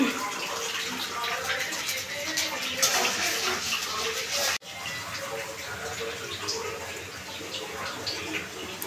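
A little water poured into a cooking pan while rohu fish is cooked with mustard, a close splashing, trickling pour that runs continuously, with a brief cut midway and faint voices in the background.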